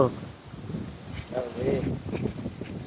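Gusting wind blows outdoors, buffeting the microphone in uneven surges and rustling, with people talking throughout.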